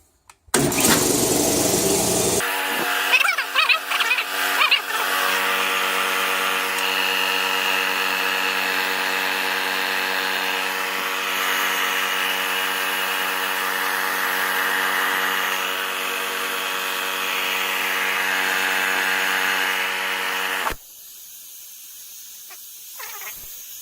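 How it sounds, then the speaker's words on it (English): An air compressor starts with a burst of noise, then runs loud and steady for about twenty seconds with a droning motor hum and a hissing whine before shutting off abruptly. Close by, with no talking. "let's turn this on. Y'all watch your ears, because it is an air compressor."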